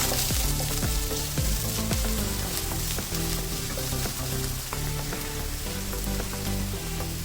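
Chopped onion and curry leaves fry in hot oil with a loud, dense, continuous sizzle and crackle throughout, close up with no talking.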